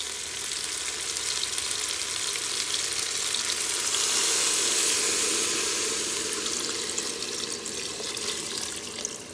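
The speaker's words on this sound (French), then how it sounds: "je viens de mettre 1 litre d'eau, chaude de préférence, pour ne pas stopper la cuisson et ne pas refroidir la cuve" Hot water, about a litre, poured into a cooking pot for soup, a steady close rushing and sizzling pour that swells slightly midway and continues without talk.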